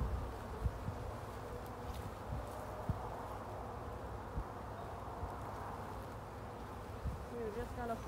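Honey bees hum around an open beehive during an early-spring hive inspection, a faint, steady buzzing drone with soft scattered knocks and rustles close by.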